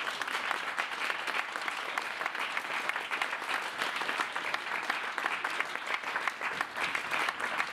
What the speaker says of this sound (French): je vous demande un tonnerre d'applaudissements pour monsieur Gérard Dacito